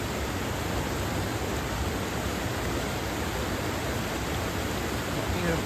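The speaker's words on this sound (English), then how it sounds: "Waterfall number 3." A waterfall on a muddy woodland walking trail pours in a steady, dense rush of broadband white noise, constant and unbroken throughout with no distinct splashes or other sounds standing out.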